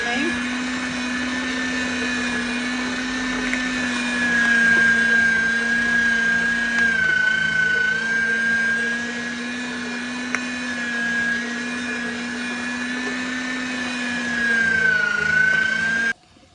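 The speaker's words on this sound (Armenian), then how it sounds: "Քաղցր և կծու պղպեղները նույնպես աղացով անցկացնում ենք։" An electric grinder whirs steadily as sweet and hot peppers are ground for adjika, a loud sustained motor whine with slight pitch wavers that cuts off sharply at the end, close by.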